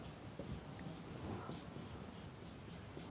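Marker or chalk writing on a classroom board during an engineering lecture, a faint steady scratchy rubbing in short bursts that recur through the clip, soft and close over a quiet room hum.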